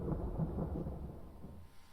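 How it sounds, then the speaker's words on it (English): Distant thunder rumbles low and faint, a sustained rolling murmur with no voices. "Well, now I can hear the thunder."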